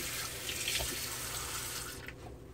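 Carbonated bubble clay mask fizzing and crackling on facial skin, a close, steady wet hiss with fine popping that fades slightly toward the end, with no voices.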